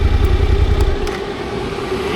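A motorcycle engine running close by with a low, throbbing rumble that drops to a steadier hum partway through, loud and with no talk.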